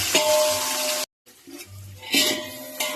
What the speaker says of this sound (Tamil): நல்லா பொரியுது பாருங்க, இந்த அளவுக்கு பொரியணும்